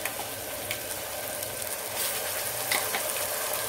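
Ginger, garlic and green chili paste frying in a pan for a kodo millet veg biryani, a steady close sizzle with faint scraping, no talking.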